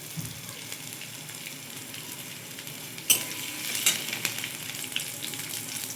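Cauliflower florets with ginger and green chilli sizzle steadily in hot oil in a pan, with a few sharper stirring scrapes and clinks partway through; no talking.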